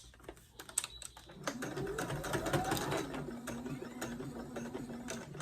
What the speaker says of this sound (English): Presser foot back down and continue with my straight stitch.